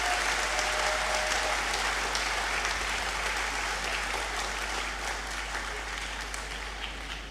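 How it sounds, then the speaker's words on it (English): An audience at a university congregation ceremony in a great hall claps, a thick continuous roar of applause that stays full and slowly eases toward the end, with a low hum beneath. "give him a better round of applause"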